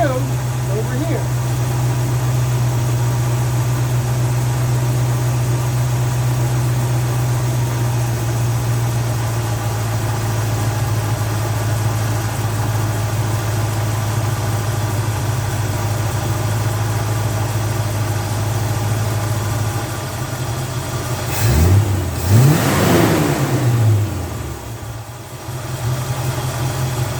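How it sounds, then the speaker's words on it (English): A carbureted car engine idles slightly too high with a steady, even drone for about twenty seconds, then revs up in a couple of quick swells before settling, heard up close. "And now it's idling a little too high."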